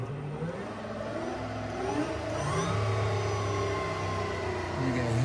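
The electric motor of a converted 1996 Toyota Tacoma, coupled to the original transmission in neutral, whirs up as the throttle is pulled, a rising and wavering tonal whine that holds steady and close.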